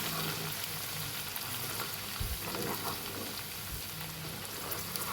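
Ground masala with crushed fenugreek sizzles steadily in hot oil in a pan while being stirred for a fish pickle, a continuous close frying hiss with faint scraping.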